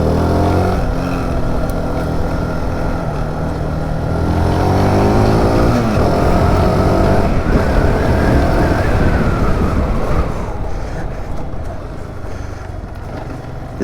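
The engine of a SYM VF185, a light 185 cc motorcycle, drones loudly and continuously as the rider feeds in power through a bend, its pitch rising and falling with wind rush, and no speech.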